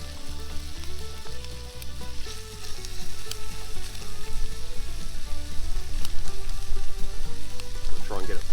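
Bacon and egg fry in a pan outdoors, a dense, continuous sizzle with crackles and pops that grows slightly louder, close by and with no talking over it.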